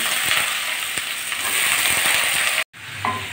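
Boiled watermelon rind tipped into a pan of fried garlic sets off a loud, steady sizzle and crackle that runs close up, then cuts out briefly before the frying resumes.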